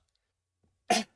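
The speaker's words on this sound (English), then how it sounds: "sorry for the coughing" A single short, sharp cough close up, after about a second of near silence.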